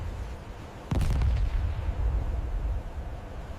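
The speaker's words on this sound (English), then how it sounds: "The battle began with heavy naval bombardment." A single heavy artillery boom from a naval bombardment hits suddenly and rolls into a long low rumble, set against a constant dull wartime background.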